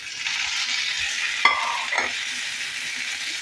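Onion, green chilli, ginger and tomato fry in a pan with a steady, close hiss, broken by a couple of short scraping stirs partway through.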